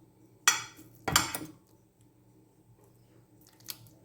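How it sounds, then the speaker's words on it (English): Fork mashing ripe avocados in a bowl, two short squishy scraping bursts close up, then a faint clink near the end, with no talking. "I'm gonna mash the avocados using a fork."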